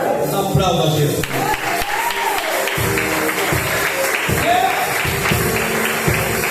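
Church congregation applauding during a sermon, steady dense clapping throughout with a preacher's voice and crowd voices over it.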